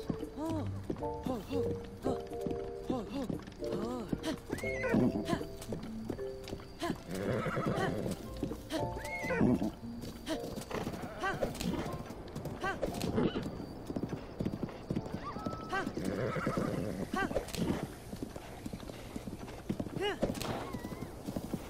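In the game Zelda Breath of the Wild, a horse's hooves clip-clop steadily while it whinnies and neighs a couple of times, set against background music, with a person talking over it throughout.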